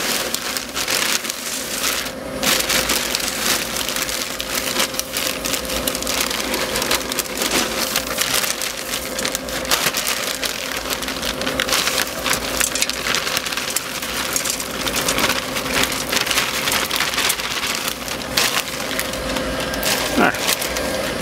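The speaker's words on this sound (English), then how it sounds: "We've got our maple pellets. We're going to put some more in the hopper." Maple wood pellets pour into a smoker hopper with a dense, continuous rattling patter like heavy rain, steady and close throughout, with a voice talking over it.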